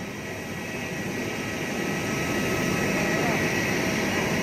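Airliner jet engine at an airport, a steady, loud broadband roar with a whine on top that swells slightly toward the end, continuous throughout.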